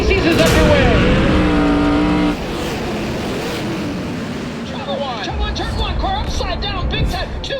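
Race cars roaring at the Knoxville Nationals sprint car event, loud engine howl sweeping past at the start, then a broad grinding wash of engines and crowd noise under a commentator's voice.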